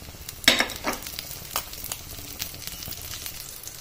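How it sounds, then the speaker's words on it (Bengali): Whole spices and chillies hit hot oil in a pan after fish was fried, cooking a pumpkin-leaf paste and prawn dish: a sharp burst of sizzling that settles into softer, scattered crackles. "এবার আমি ফোড়নগুলো সব দিয়ে দিলাম।"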